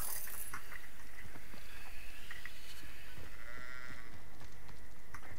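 Sheep bleat repeatedly in the video game Hogwarts Legacy, a few short cries scattered over a busy, noisy game soundscape with clattering effects and no talk.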